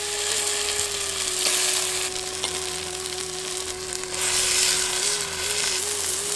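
Country duck meat sizzling and frying with ground cinnamon-clove masala in a pan, a steady close hiss with occasional stirring scrapes, no talking.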